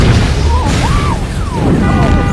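An explosion in an action film, a loud booming rumble with crashing debris, mixed with short voiced cries over the noise.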